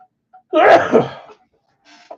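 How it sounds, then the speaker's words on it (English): A single loud sneeze up close, sharp and sudden, followed by a short quiet breath. "I'm about to sneeze."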